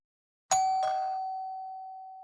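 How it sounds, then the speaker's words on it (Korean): A clear doorbell rings at a house on a quiet alley, two bright chimes struck in quick succession, the second tone lingering and slowly fading into silence. "맑은 초인종 소리가 골목에 울렸습니다."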